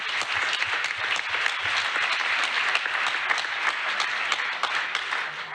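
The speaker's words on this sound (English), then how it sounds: "That deserves a clap right there." An audience at a mayor's installation and community service awards ceremony gives loud, sustained applause, a dense wash of many hands clapping at once with no talking.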